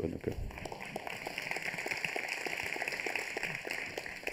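Audience at a talk applauding on request, a steady wash of many hands clapping throughout at moderate distance, with some voices mixed in.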